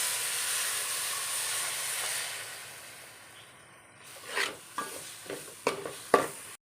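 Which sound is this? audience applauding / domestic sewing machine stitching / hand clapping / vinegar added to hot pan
vinegar added to hot pan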